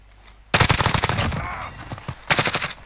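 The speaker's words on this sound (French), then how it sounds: "Là-bas, ça tire." Bursts of rapid automatic gunfire from the Call of Duty Warzone video game, loud and close, with a sustained volley followed by a short pause and a second burst.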